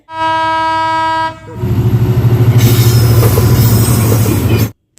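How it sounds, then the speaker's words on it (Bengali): A loud train horn blares for over a second, then a train rolls in slowly close by with rhythmic wheel clatter and a bright metallic wheel squeal building over it. "আর এই যে ট্রেনটা হচ্ছে ধীরে ধীরে আসতেছে"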